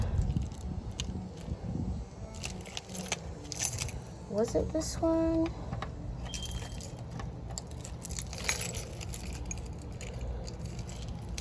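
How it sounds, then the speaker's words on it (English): A bunch of keys jangles and clicks while different keys are tried in a door lock, close up, with a person speaking briefly over the metallic rattling. "I have to remember which key locks my door. Is this the right one?"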